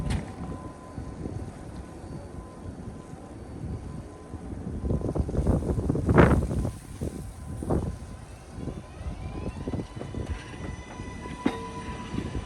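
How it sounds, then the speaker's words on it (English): A New York subway 7 local train passes through Queens during a blizzard, its rumble building to a loud peak near the middle and then fading, with steady wind noise throughout. "This is a Manhattan-bound 7 local train."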